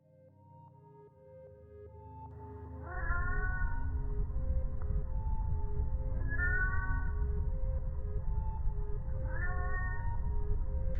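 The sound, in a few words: cat meowing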